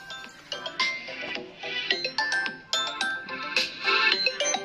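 Ringtone melody played through a Vivo V29 phone speaker, a bright sequence of chiming synth notes in quick rhythmic bursts, loud and close with no talking.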